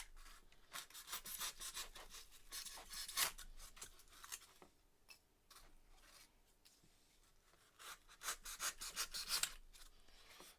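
Foam is carved by hand with a blade, not a hot wire cutter, making faint rasping strokes in short irregular bursts with quiet pauses between them.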